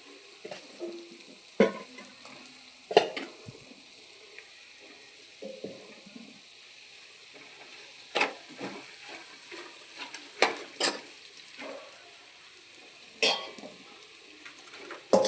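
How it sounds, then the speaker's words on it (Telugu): Chopped ingredients fry quietly in a pan while a spatula scrapes and knocks at scattered intervals, close and fairly soft, with long hushed stretches between strokes. "వీటిని మనం ముందుగా కట్ చేసుకున్న వాటిని వేసుకుంటూ కలుపుకోవాలండి."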